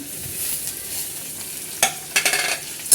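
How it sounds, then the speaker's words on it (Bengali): Chopped green chili hits a pan of frying onion, a steady sizzling hiss broken by a few sharp crackles and stirring scrapes near the end, close up with no talking. "একটু লঙ্কা কুচি দিয়ে দিলাম"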